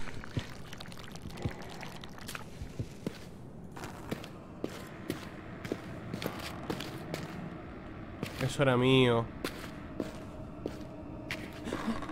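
Oil pouring in the horror video game Amnesia: Rebirth, a brief gurgling glug lasting under a second, surrounded by quiet ambience, faint footsteps and soft thuds.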